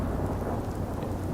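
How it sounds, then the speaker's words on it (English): Heavy rain and a low rumble of thunder fill a stormy night in Fallout 4 with a weather mod, a dense, steady roar with no voices. "It also, at this point, starts to thunder."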